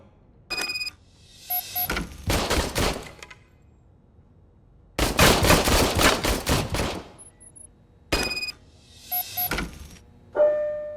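Several bursts of rapid gunfire from an old police service pistol in RoboCop: Rogue City, loud and close, with pauses between volleys and sharp mechanical clicks and chimes around the shots.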